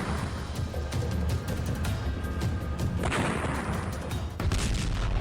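Explosions and gunfire from Ukraine war drone footage: a dense, continuous barrage of sharp cracks and booms, with distant rumbling and clustered bursts throughout.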